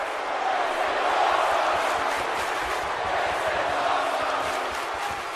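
Crowd roaring and cheering in a wrestling arena in the video game WWE 2K17, a dense, continuous wash of voices that swells slightly and holds loud throughout.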